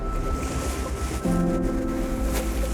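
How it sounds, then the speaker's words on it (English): Water waves slapping and washing near a boat, heard as a continuous broadband rush with gusty wind noise on the microphone and a low engine-like hum underneath. "Oh, these are nice sized waves."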